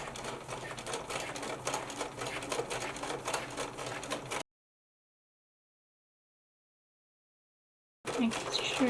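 Domestic sewing machine stitching fabric for a heart cutout appliqué, running as a steady, close, continuous mechanical whir for about four seconds, then cutting to silence before a brief return of faint handling noise.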